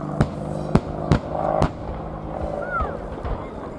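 Pyrotechnic charges firing at an international air day, sharp loud bangs in a quick series of four followed by a lingering rumble, with a faint whistle-like tone near the end.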